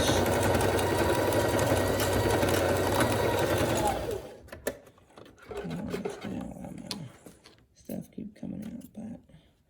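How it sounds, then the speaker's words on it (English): A sewing machine running a straight stitch along folded fabric for fringe, a fast continuous mechanical whir for about four seconds, then stopping as someone talks over quieter handling sounds. "And you straight stitch. Do a straight stitch."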